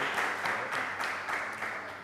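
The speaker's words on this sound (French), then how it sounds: "On applaudit pour lui, s'il vous plaît." Audience applause at a televised lucky-draw game show, steady clapping from a crowd sustained for about two seconds with no voices over it.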